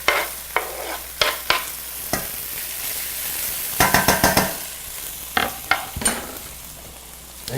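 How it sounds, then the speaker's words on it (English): Onions and mushrooms hit a hot pan for beef stroganoff, a loud sizzle with repeated scraping stirs and clacks of a utensil against the pan, close up with no talking. "we're going to go ahead and put in our onions and the mushrooms"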